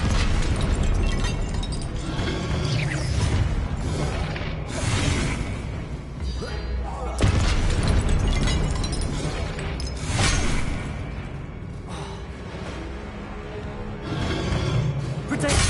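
Confringo spell blasts in Hogwarts Legacy, the fire spell cast alongside Expelliarmus during combat, erupt as repeated loud booming bursts over a dense game soundtrack, with heavy thumps recurring every few seconds.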